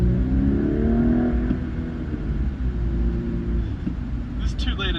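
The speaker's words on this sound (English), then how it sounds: "this 2-litre TFSI engine goes like a rocket ship" A 2017 Audi A5 with a 2-litre TFSI engine pulls away, its engine rising briefly in pitch before settling into a low rumble, with someone talking over it.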